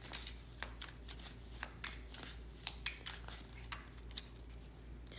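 Tarot cards being shuffled by hand, a run of soft papery riffles and snaps repeating irregularly, close and fairly quiet over a low steady hum, with no talking.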